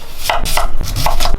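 Quick knife chops slicing sweet potato on a cutting board, about five firm strikes in a steady rhythm, close and clear with no talking.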